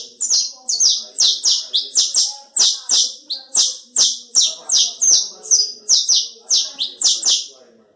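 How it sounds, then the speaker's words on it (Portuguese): A saffron finch (canário-da-terra) sings loud and close in a rapid series of bright, repeated chirping phrases with a steady rhythm, alone with no voices. "Canário da terra."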